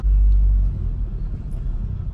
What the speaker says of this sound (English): Oh shit, there's a speed bump.